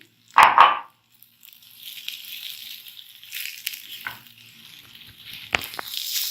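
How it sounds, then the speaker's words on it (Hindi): Grated fresh coconut roasting in a pan with khoya for coconut burfi, a loud scrape of stirring at the start, then a soft dry sizzle with occasional spatula knocks, close and without talk. "हमने धीमी धीमी आंच पर इसको अच्छा सा भून लेना है नारियल ऐड करके"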